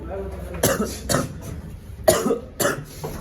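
Four sharp coughs come in two pairs with short gaps, close and fairly loud, with some breathy throat noise between them.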